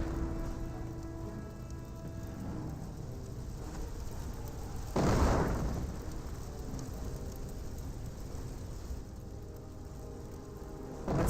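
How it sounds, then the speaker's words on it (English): Incendiary grenades thrown by a Panzer Elite player burst in Company of Heroes, a WWII strategy game: one louder blast midway through steady hissing, crackling battle ambience, with no voices. "incendiary grenades being thrown out by the Panzer Elite player"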